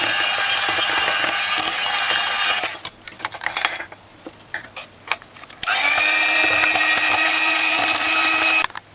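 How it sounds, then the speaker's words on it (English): An electric mixer blends Jamaican Christmas cake batter, a loud steady whirring hum that stops for a few seconds of clattering and scraping, then resumes at full strength. "Just blend."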